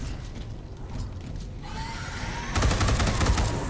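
Rapid gunfire in the Space Hulk video game, a dense fusillade of shots over a constant background rumble, growing louder near the end.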